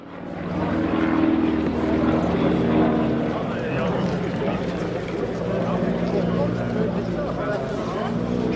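A WWII-era Stearman trainer biplane flies at an airshow in Norway, its engine drone a steady, broad roar that stays loud and constant throughout, with a voice talking over it.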